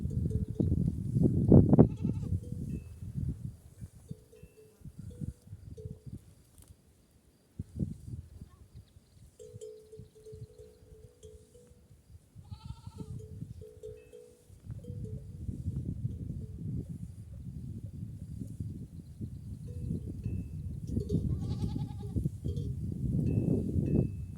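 Goats bleat now and then amid a steady low outdoor rumble; the calls are brief and scattered, with quieter stretches between them.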